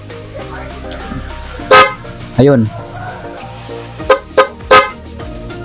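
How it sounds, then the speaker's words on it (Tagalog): Dual horn on a Honda Beat motorcycle, honking in several short close blasts: two longer ones early, then three quick toots near the end, over a low idling engine with a voice speaking briefly. "So pindutin ko lang guys yung busina natin."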